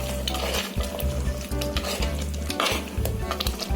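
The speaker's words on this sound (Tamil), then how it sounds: "அதே ஃபுல்லாக நல்லா மிக்ஸ் பண்ணிக்கோங்க." A spoon stirs dried fish curry with grated coconut in a pot, scraping and clinking in a repeating rhythm over a steady sizzle, close and loud with no talking.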